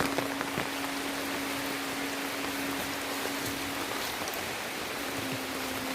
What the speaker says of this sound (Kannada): ಈಗ ಸ್ವಲ್ಪ ಮಳೆ ಜಾಸ್ತಿ ಆಯಿತು